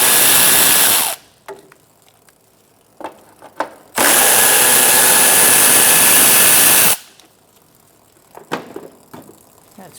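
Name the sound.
10mm socket ratchet removing radiator fan shroud bolts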